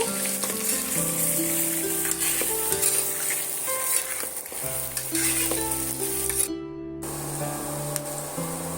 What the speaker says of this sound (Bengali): আলুটা সুন্দর করে আমি লাল লাল করে ভাজা করে নেব